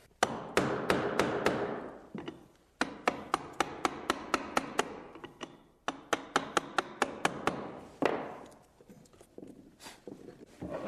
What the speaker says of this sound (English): I'm going to chisel out what I couldn't do on the table saw.